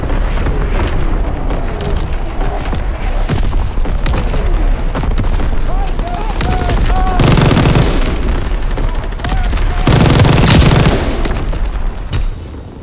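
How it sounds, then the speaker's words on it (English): Dense battlefield din from Call of Duty WWII: enemy artillery booms and sustained machine-gun fire, loud and continuous, with heavier blasts swelling around the middle and near the end. "Enemy artillery, get to cover!"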